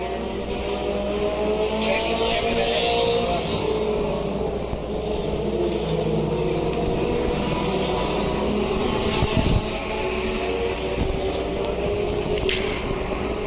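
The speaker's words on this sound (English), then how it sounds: "Trying to make it a Williams night here at Highland Rim Speedway." Race cars roar around the oval at Highland Rim Speedway, a steady, loud engine drone that sustains across the stretch, with passing swells and a faint tire squeal in the distance. No one speaks.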